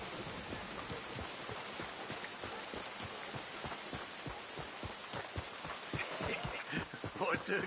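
Steady rain patters over a dull background in Red Dead Redemption 2, with rhythmic thumping footsteps or impacts and a brief louder stretch near the end.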